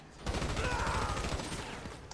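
Rapid gunfire in the GTA Online video game, a dense burst of shots in steady succession lasting about two seconds, moderately loud with no talk over it.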